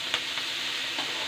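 Ingredients fry in a pan for white sauce pasta with a dense, continuous sizzle, close and fairly loud, and a faint stir or two.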